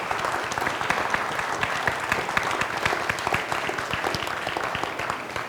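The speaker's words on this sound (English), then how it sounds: "How about a big round of applause for everybody?" A live audience at a public forum on Hawaii school funding claps loudly in a dense, sustained round of applause with distinct close hand claps.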